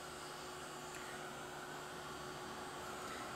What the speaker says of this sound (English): This heat tool is hot, but it doesn't have a lot of forceful air coming out